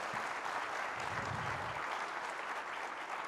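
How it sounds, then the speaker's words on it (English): Steady, even applause from a seated audience at a literary festival session in Lahore, a faint continuous patter of many hands without talk. "So please give her a big round of applause."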